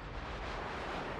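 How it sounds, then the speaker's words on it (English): A shell slams into a Japanese warship, the Daisen, in a naval combat game: a dense, roaring blast of impact noise filling the whole short moment, loud and unbroken. "Oh, that was a brutal shot on me."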